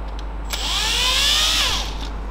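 A power drill bores a hole into the carbon of a speargun, its whine rising and holding steady for about a second before spinning down, loud and close.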